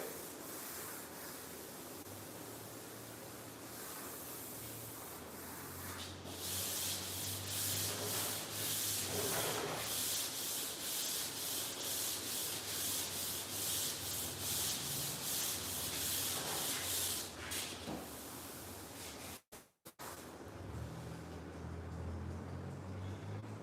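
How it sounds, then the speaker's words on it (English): Steady rhythmic rasping of block sanding strokes on a Dodge Dart car body, close and continuous, with a brief break near the end. "Who's doing the sanding for you?"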